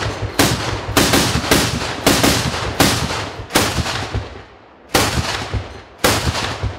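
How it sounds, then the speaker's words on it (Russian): A new domestic armored personnel carrier at a test range near Kyiv fires its 30 mm cannon, booming single shots about once a second, loud and close, with brief gaps between them. "Сначала из 30-миллиметровой пушки."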